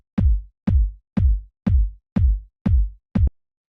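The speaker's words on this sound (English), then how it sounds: "So yeah, just like a big boomy kick." Six big, boomy kick drum hits from a lo-fi house sample, evenly spaced with a steady rhythm, each with a deep low thump and a short decay. A seventh hit is cut off short, and the kicks play alone and dry.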